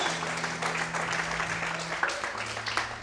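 A church congregation claps together in a steady, fairly loud wash of applause, with a low sustained organ or keyboard tone running underneath and no talking heard.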